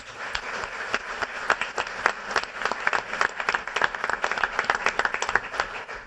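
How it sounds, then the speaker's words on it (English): Applause for sponsors at an entrepreneurs event, a moderately sized audience clapping with distinct, sharp individual claps that keep going steadily for several seconds at a fairly distant level. "a round of applause, please, for our sponsors"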